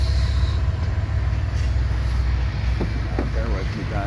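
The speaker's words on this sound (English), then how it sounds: "Several different reporting marks on this train." A freight train rolls past on the Creston sub near Mo Valley, Iowa, giving a loud, steady low rumble and rushing noise with wind, and some brief clanks toward the end.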